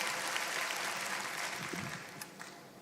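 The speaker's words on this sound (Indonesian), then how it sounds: "Tepuk tangan buat Tuhan." Applause from a church congregation during a sermon, a steady broadband wash of clapping at moderate level that fades slightly toward the end, with no talking over it.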